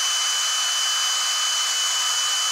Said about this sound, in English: Take a little while to drill.